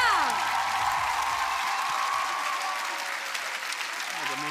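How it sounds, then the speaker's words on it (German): A studio audience at The Voice Kids finals applauds loudly and continuously, a dense crowd wash with a few whoops, over fading sweeping musical tones. "Applaus bitte nochmal für Georgia."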